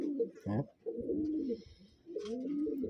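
Taiwan pigeons coo in a close series of soft, throaty calls with brief pauses between them, rising and falling in a steady rhythm, with faint higher chirps scattered above.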